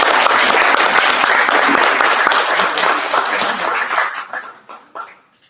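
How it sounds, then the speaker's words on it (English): Enthusiastic applause from a security workshop audience, dense clapping that thins out into scattered individual claps and fades by the end. "Big round of applause, please."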